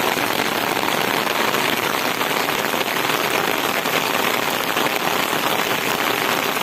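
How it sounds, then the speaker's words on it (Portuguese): Rain falls steadily on dry Caatinga ground in the Bahia backcountry, a dense, even hiss of drops that stays loud and unbroken, with no voices. "Começando a chover agora."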